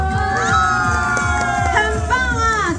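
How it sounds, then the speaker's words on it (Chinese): Crowd cheering and shouting fill a company year-end banquet hall, a dense continuous roar with a talking voice over it and no gaps. "要给我们第一组一个掌声"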